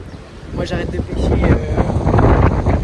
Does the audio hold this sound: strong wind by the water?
yes